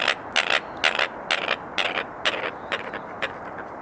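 American coot giving a series of low, gravelly quacks outdoors at Big Bear Lake: about ten short rasping calls at a fairly even pace, moderately close.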